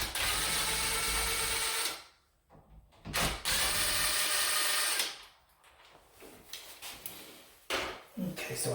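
A power screwdriver whirs in two sustained bursts, backing screws out of a Schlage keypad lock face, separated by a pause and followed by softer scattered handling clicks and rattles.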